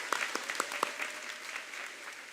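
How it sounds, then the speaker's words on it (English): Audience applause at a 2024 high school graduation ceremony for graduating students: a quiet, distant wash of many hands clapping steadily, with a few sharper individual claps standing out near the start. "Let's give all of these students a big round of applause."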